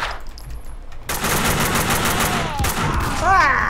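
Rapid automatic gunfire from the video game Max Payne 2, close and loud, starting abruptly after a brief quiet moment and continuing as a dense, sustained burst of shots to the end.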